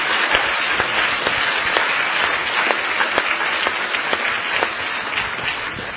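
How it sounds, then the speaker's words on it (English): Sustained audience applause at a Buddhist talk by Ajahn Brahm, a large crowd clapping steadily and loudly for about six seconds with individual claps audible in the dense wash. "Please give them a round of applause for thanks."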